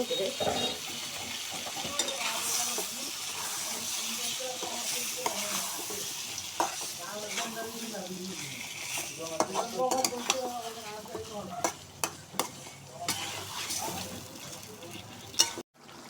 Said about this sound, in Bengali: মাছটা আমি কষাই নেব করে